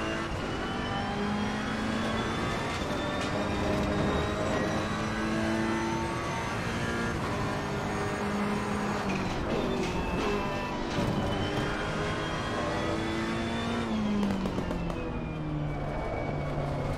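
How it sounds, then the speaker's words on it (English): A Ferrari GT3 racing car engine in Assetto Corsa Competizione at the Hungaroring revs and shifts continuously, spluttering, its pitch rising and falling with the throttle, loud and steady throughout with no voices. "the spluttering of the engine"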